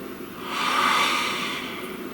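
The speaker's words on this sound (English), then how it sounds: "Please take a nice deep breath." A single slow, deep breath drawn in, swelling to a soft airy peak and easing off, close and quiet, alone.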